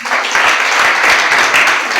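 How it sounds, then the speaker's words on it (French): An audience at a political party investiture event applauds loudly and steadily for about two seconds, a dense wash of clapping with no talk. "On l'applaudit."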